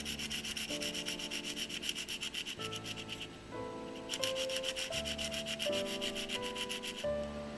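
Sandpaper scrubs a carbonised, blackened soldering iron tip in fast, rhythmic back-and-forth rasping strokes. The steady scratching plays under background music.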